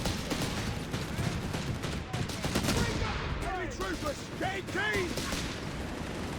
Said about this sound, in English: He's got more Bren guns there for Tonimontana, based off the Czechoslovakian ZB-26